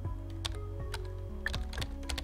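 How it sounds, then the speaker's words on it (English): Irregular clicks of keys on a computer keyboard, a few quick taps spaced unevenly, close and fairly quiet against a low steady hum. "I'm just randomly typing."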